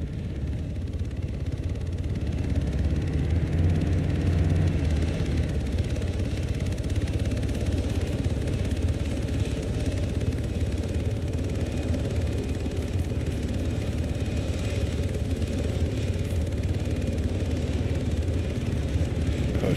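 A helicopter in a video game, with a heavy, continuous low engine and rotor drone that holds steady and close for the whole stretch, no voices over it.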